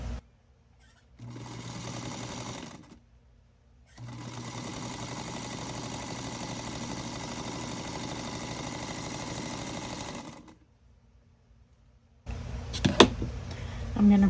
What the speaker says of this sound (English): I'm going to go ahead and marry my 2 strips together and sew them.